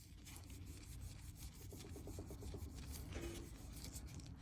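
Silver rubbed vigorously with Nushine silver plating solution, a steady, soft, raspy back-and-forth scrubbing heard close and fairly quiet, continuing throughout with no voices.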